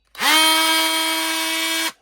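A Lidl multifunctional power tool with a slot-in attachment runs for about two seconds, a loud, close, steady motor whine that starts and stops abruptly.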